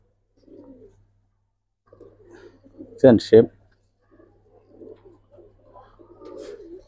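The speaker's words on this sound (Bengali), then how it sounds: "এই 3টা কবুতরই দিছি, একদম অসাধারণ কবুতর" Pigeons coo softly in short low bursts, with someone talking close by and a loud spoken word cutting in partway through.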